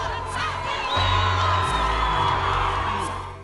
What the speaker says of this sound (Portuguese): Na saída do fórum, Leandro foi vaiado pela população de Três Passos.